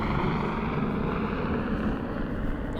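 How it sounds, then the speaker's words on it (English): Steady low rumbling drone of a helicopter overhead, loud and continuous with a faint whoosh of wind, no voices. "Whoa, there's a helicopter."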